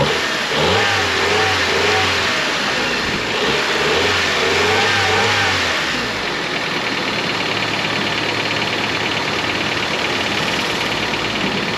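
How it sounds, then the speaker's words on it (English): A car engine revs up in repeated rising-and-falling bursts over the first half, then settles into a steady idle hum. "All right, rev the engine."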